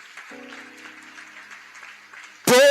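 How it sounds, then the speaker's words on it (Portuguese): Applause from a church congregation bursts in loudly at the end, following a stretch of sustained background music and faint voices. "Aplauda ao Senhor Jesus Cristo."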